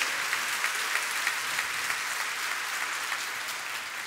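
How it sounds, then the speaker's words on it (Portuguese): Church congregation applauding together, a dense, steady wash of many hands clapping at even loudness for several seconds, with no voices over it. "Dá uma salva de palmas ao Senhor."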